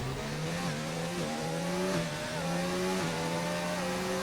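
A Formula-style race car in a sim-racing game on a Canadian circuit spins out, its engine droning loudly and steadily with pitch wobbling and shifting as the car rotates, continuous throughout.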